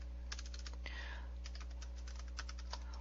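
Someone types on a computer keyboard, a quick irregular run of light clicking keystrokes over a steady low electrical hum.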